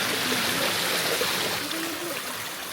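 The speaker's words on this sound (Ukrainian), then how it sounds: "який гарний водоспад" Steady broadband rush of falling water, like a waterfall nearby, constant and fairly loud with faint voice-like tones drifting underneath.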